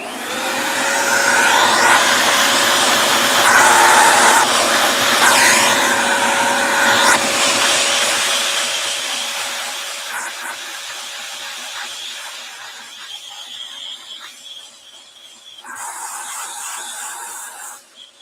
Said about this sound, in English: I'm going to get my vacuum cleaner. So you're going to hear a loud sound